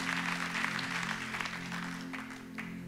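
A church congregation applauds in a steady spread of faint, distant clapping that continues evenly and begins to thin toward the end, over a low sustained hum of the hall's sound system.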